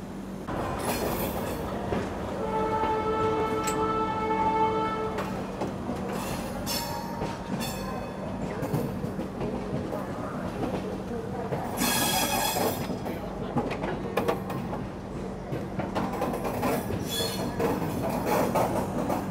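The Jammu Tawi Express, a long-distance passenger train from Kolkata, rolls along with a steady rumble and rattle of carriages, wheels squealing in drawn-out tones now and then, heard from inside the coach.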